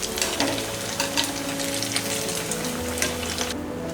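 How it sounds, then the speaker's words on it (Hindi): Moong dal aloo tikki frying in oil over a low-to-medium flame, a dense continuous crackle and sizzle with light bubbling pops, close up and steady throughout, no voices. "हम इसे लो टू मीडियम फ्लेम में फ्राई करेंगे।"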